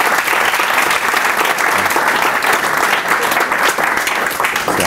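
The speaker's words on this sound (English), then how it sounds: "So let's give another round of applause to Jason up center tonight." Sustained, loud applause from a meetup crowd after a keynote on enterprise technology hiring, dense steady clapping throughout with no pauses.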